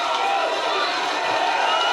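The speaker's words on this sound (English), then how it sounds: "I'm glad they cheered there" A crowd cheers and shouts steadily, a bright dense wash of many voices sustained throughout at moderate level, with no break or single voice standing out.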